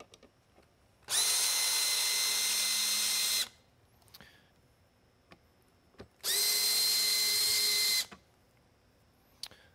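A power screwdriver backs Phillips head screws out of an LED beacon in two loud, steady whirring bursts of about two seconds each, separated by quiet handling clicks and taps.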